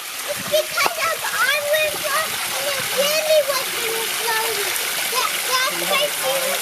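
A young girl swims and splashes in a pool, with close irregular splashes and water sloshing under a voice and other people talking.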